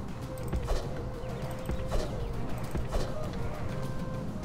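Horses galloping in the Invasio Barbarorum strategy game during a raid on a walled settlement, a steady stream of hoofbeats with recurring clip-clop bursts over dense battle ambience.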